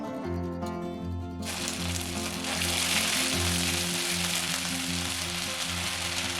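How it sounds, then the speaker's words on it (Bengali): Half a spoon of ginger paste hits hot, lightly salted oil already tempered with two dried red chillies for a bitter gourd dish, bursting into a loud, steady hiss of sizzling after a quiet start, over a constant low hum. "এখন তেলের মধ্যে দিয়ে দিচ্ছি হাফ চামচ আদা বাটা।"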